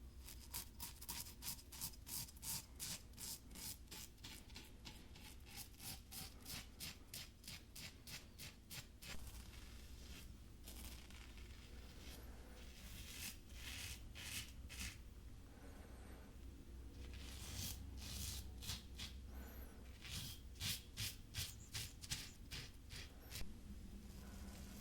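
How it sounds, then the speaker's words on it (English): A razor wet-shaving facial stubble up close, with long runs of quick rhythmic rasping strokes separated by short pauses, soft and intimate with no voice. "For the closest shave, shave with the stubble growth, across, and then against."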